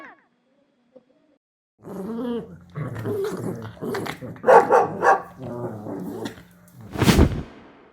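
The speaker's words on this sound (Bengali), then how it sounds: "এটি হলো কুকুর ইংরেজিতে বলে ডগ" A dog barks and growls in a run of close, rough sounds, ending with one sharp, loud bark.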